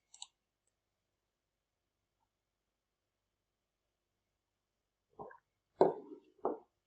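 A few sharp computer mouse clicks come after a long silence: one tiny tick at the start, then three distinct close clicks near the end.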